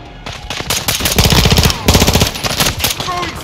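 Gunfire in Call of Duty Modern Warfare 2 during a Domination match on Shoot House, loud rapid automatic bursts with overlapping shots and rattling echoes, dense and continuous.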